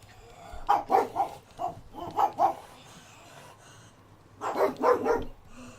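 Dogs bark indoors in bursts: a run of five or six sharp barks, a pause, then another rapid cluster of four or five, moderately loud and close.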